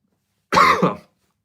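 A single harsh cough, close and loud, breaking out of silence for about half a second with a short second burst before it fades.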